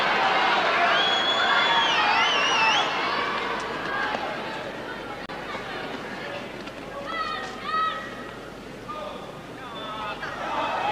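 A tennis crowd at Wembley murmurs and chatters in a large indoor arena during a 1981 final, a continuous diffuse hubbub with scattered louder calls and whistles.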